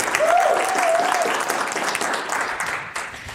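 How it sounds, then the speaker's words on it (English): An audience at a business seminar claps in sustained, enthusiastic applause, with a brief whistle-like tone near the start, tapering slightly toward the end. "Give a round of applause, please."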